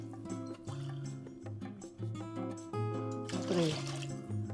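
Three cups of water poured into a pot of rice, with a brief gurgle that rises in pitch as it fills, over steady tonal background music.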